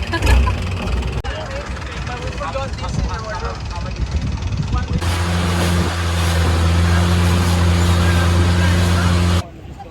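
A motorboat engine drones loudly and steadily with a low, even hum on a sunset boat tour off Railay Beach, Thailand, preceded by wind noise and indistinct chatter.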